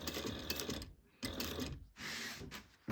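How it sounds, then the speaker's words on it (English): A sewing machine stitching fabric at about an eighth-inch seam in bursts of dense mechanical whirring, stopping briefly between runs, close and steady with no voices. "just bring it over to your sewing machine, and you're going to sew around at 1/8 of an inch."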